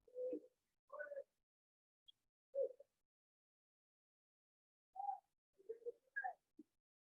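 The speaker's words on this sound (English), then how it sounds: "it sounds like there's a dove back in the corner. Oh, it's the Stairmaster." A gym Stairmaster squeaks in soft, coo-like bursts resembling a dove. About eight short hoots come in irregular clusters, separated by silence.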